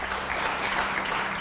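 Audience applause at a dinner event honoring mountain bike champions, a steady dense wash of clapping throughout with no pauses.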